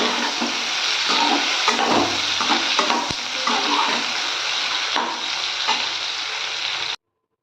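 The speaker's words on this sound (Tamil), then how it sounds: "இந்த மாதிரி முக்கால் பதத்துக்கு நாம் ஃப்ரை பண்ணி எடுத்தாச்சு" Ivy gourd (kovakkai) frying in oil in a pan gives off a steady, busy sizzle with scraping stir strokes throughout, close and fairly loud, before cutting off abruptly.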